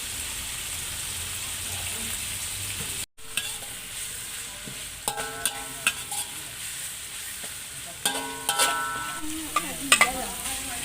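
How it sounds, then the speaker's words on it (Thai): Pork being stir-fried in a pan before fragrant onion flowers are added, giving a steady sizzle with scattered scraping clinks of a spatula, loudest in bursts toward the end, with no talking. "ผัดให้เนื้อหมูสุกแล้ว"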